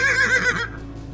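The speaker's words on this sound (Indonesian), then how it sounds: "Itu suara kuda tuh." A horse whinnies once, a bright, quavering call up close that lasts about half a second and then trails off into quiet.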